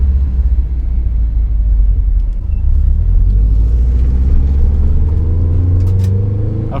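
A fully built Subaru STI engine rumbles steadily while driving, a loud, deep, continuous drone with slowly rising pitch as it pulls along.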